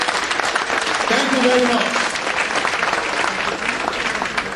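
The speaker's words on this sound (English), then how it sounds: "please give them a big round of applause" Audience applause for the Akugbe Teen Club of Chicago: a steady wash of clapping fills the room while someone speaks over it.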